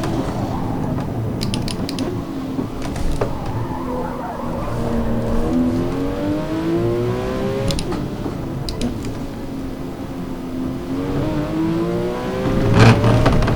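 A Porsche 911 GT3 RS races in the Forza Motorsport video game, its engine loud and close, revving up through repeated gear changes with rising and falling whine and occasional clicks and tire scrubs.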